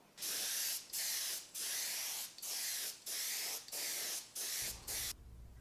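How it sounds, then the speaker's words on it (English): A spray gun sprays tinted lacquer onto an electric guitar body, hissing in eight even bursts, each about half a second with brief gaps, loud and close, ending with a low hum. "add some color to my lacquer, and I'll spray it up and even it out"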